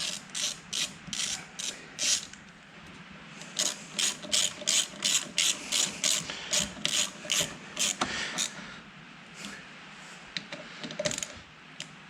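Ratchet wrench tightening the fuel filter cover bolts on a wrecked 2016 Skoda Octavia vRS, a close, loud run of rapid clicking strokes in repeated bursts with short pauses between them, no voices.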